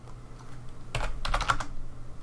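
Quick bursts of typing on a computer keyboard, a short flurry of close key clicks after a quiet start, with no voices.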